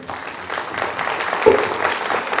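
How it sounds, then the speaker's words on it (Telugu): An audience at an indoor event claps together, a dense, steady round of applause that swells slightly and carries on to the end. "ఒకసారి ఉమా సార్ క్లాప్స్."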